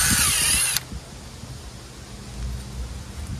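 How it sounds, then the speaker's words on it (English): A power drill boring holes in a birch tree whirs loudly for under a second, then cuts out, leaving quiet low rumbling and faint rustling. "going to drill a couple holes in the tree."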